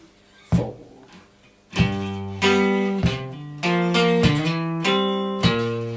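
An electric guitar plays a short riff from the intro of a song, ringing chords and single notes with distinct plucked attacks spaced out over several seconds.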